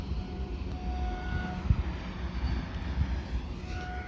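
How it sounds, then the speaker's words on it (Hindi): A train nearing a railway station, heard as a continuous low rumble with faint tonal hums and a couple of dull thuds, moderately loud and without voices. "अभी एक ट्रेन और आ रही है।"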